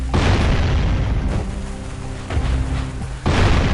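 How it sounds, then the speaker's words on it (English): Cannon-fired bombs exploding at Sentinel Beach in the Jak and Daxter video game, heavy booming blasts that roll into long rumbling tails, with a steady hum in between and another loud burst near the end. "there's a bunch of bombardment of bombs here."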